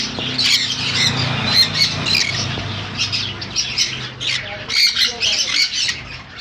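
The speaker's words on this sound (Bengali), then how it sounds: "এখানে আছে blue conure, full adult ফুলধারী blue conure, blue yellow side conure" Blue conures and yellow-sided blue conures squawking in a bird shop, repeated loud harsh screeches in close irregular bursts over a low background hum, with someone talking underneath.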